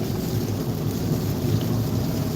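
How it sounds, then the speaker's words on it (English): Steady, dense rain noise with a low rumbling wash underneath, continuous and fairly loud throughout, no voices. "So yeah, it's raining."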